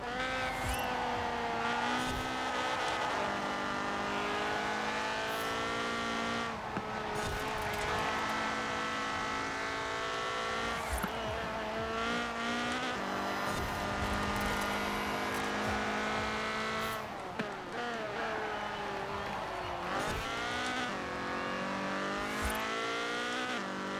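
Upgraded car cruising down a long street in Forza Horizon 4, a loud continuous engine roar with pitch sweeps from gear changes and revving, and brief dips where the throttle lifts. No voices.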